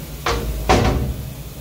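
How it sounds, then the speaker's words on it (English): Door of a sandblasting cabinet (BIA 4848 blast cabinet) shutting: a short metallic clunk followed by a louder double thud as it latches, close and distinct in a quiet workshop. "Close the door."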